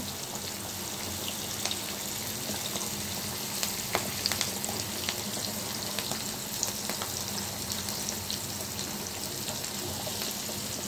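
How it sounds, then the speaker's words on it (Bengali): Chopped onion and dried red chilies fry in hot oil, making a steady dense sizzle with scattered crackles and pops, close and continuous throughout, with no talking. "তেলের মধ্যে পেঁয়াজ দিলাম, এবার শুকনো লঙ্কা দিয়ে দিচ্ছি"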